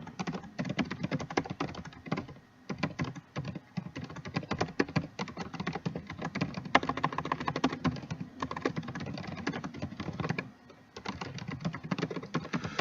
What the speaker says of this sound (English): So then I'm going to type my subject line.